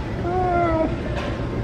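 A single drawn-out cat meow, clear and fairly close, rising then trailing off over a steady low background hum.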